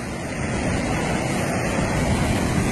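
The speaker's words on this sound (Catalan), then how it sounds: "Ne baixa d'aigua, que barbaritat." A swollen mountain stream in flood rushes loudly and steadily, a constant roar of fast water close by with no speech over it.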